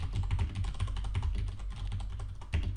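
Steady, dense typing on a computer keyboard, with rapid key clicks running continuously and fairly close at moderate volume, and no voices.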